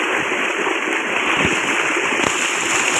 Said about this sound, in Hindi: वो देखें माशाल्लाह बहुत अच्छा पानी निकाल रहा है